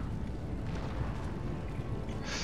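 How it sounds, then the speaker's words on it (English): Cannon fire in Empire Total War rumbles as a continuous low, muffled barrage of booms, with a brighter burst near the end. "Oh, their cannons are also starting to fire now."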